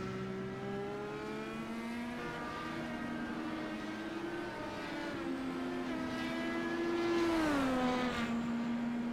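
Indycar race cars at Mid-Ohio in the iRacing video game scream at well over 10,000 RPM, one high-pitched engine note steadily climbing and shifting, then a sharp drop as it passes, loud and close.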